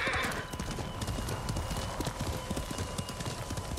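A horse gallops in the video game Ghost of Tsushima, its hooves clip-clopping in a fast, steady rhythm, with a brief neigh at the start and no talking.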